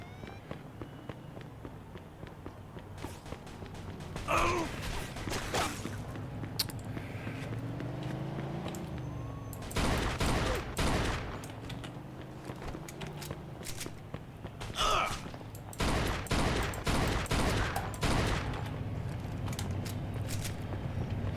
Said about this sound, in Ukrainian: Та годі стріляти по мені.